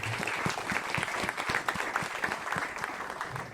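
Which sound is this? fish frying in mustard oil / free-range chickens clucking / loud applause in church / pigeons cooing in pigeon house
loud applause in church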